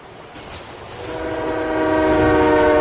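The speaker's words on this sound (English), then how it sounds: "Here's where you board the train." A train in GTA The Ballad of Gay Tony rolls past with a horn-like tonal drone, growing steadily louder and nearer over a few seconds, layered over rumbling rail noise.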